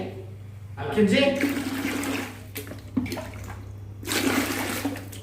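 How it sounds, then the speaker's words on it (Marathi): Water runs inside a house in bursts, a rushing, flushing gush near the start and again near the end, heard over a steady low hum while someone talks. "पाण्याचा आवाज येतोय"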